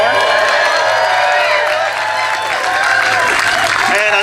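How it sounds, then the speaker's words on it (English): Crowd at an outdoor Water Is Life rally applauds and cheers loudly and steadily, a dense wash of clapping and whoops with raised voices mixed in throughout. "Please give a round of applause for her."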